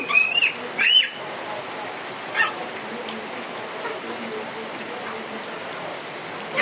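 Steady rain falls on surfaces in Natore town, a continuous wash of drops with a few brief bird chirps near the start.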